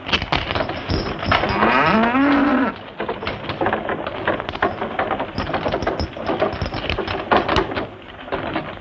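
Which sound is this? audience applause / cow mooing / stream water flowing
cow mooing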